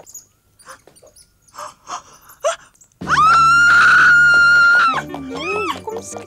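A child screams in a long, loud, piercing cry in an Afrikaans-dubbed animated series. Soft voices and breathy sounds come before it, and wavering, sob-like noises follow.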